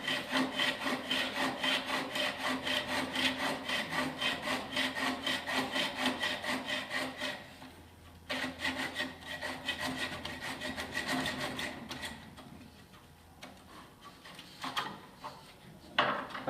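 A miniature hand miter saw cuts through small wooden pieces in quick, steady back-and-forth strokes, close and crisp, pausing briefly before resuming with a slower, rougher rhythm.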